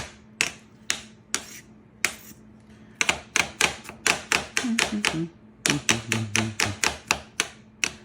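A knife dices an onion on a granite cutting board with rapid, sharp, hard taps, a few spaced strokes at first and then quicker irregular bursts, close and alone.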